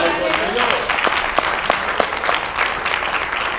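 A church congregation bursts into loud applause for the Lord, a full crowd clapping that swells at first and then holds steady.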